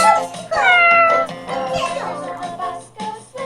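A child in a cat costume imitates a cat with a voice, giving drawn-out meows one after another. They are loud and close, with a little background noise in the room.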